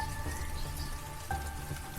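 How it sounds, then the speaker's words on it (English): Light rain falls in a natural garden by a cottage after a passing storm, a steady soft patter of drops with a few slightly louder hits and faint tonal background hum. "We got light rain instead, which made the air fresh"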